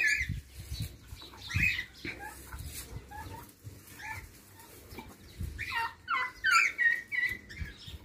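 A duck and its ducklings call with repeated quacks and cheeps, mixed with brief wing flaps. The sounds come in bursts at close-to-moderate distance.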